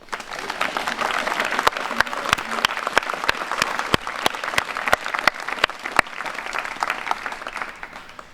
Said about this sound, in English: Let's have a round of applause for the three inductees, please